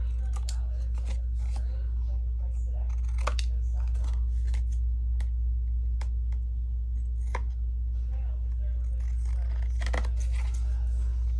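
Scissors trim paper for an accordion craft, producing repeated sharp snips and crisp crunches at an irregular pace, close up over a steady low hum.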